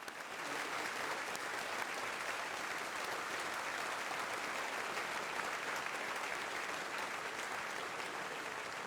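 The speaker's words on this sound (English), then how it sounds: "So can we please give them a round of applause?" Audience applause after a federal candidates' debate on housing: a steady, even wash of many hands clapping, fairly faint and distant, sustained unbroken throughout with no talk over it.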